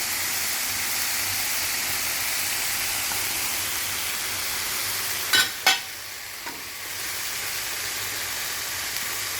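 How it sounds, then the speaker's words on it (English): Spelt spaghetti sauce stirred in a hot pan: a continuous close sizzle runs throughout, broken by a couple of sharp utensil scrapes partway through. "Give it a stir"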